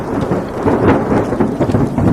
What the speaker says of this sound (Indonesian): Dalam perjalanannya, ia sempat tersambar petir.